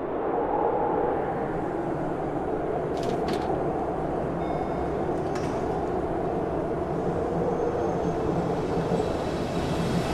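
Subway train in The Sims 3 rumbling steadily past at close range, a continuous low rolling roar with a couple of faint metallic squeals, no talk over it.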